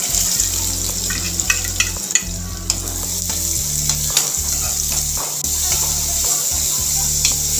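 Finely chopped onion and cumin fry in hot oil, a loud close sizzle running throughout, punctuated by frequent scraping and clinking strokes from a spoon stirring in the pan.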